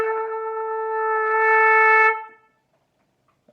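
Trumpet sounds a sustained note that starts sharply and then swells louder in a crescendo before cutting off, leaving near silence.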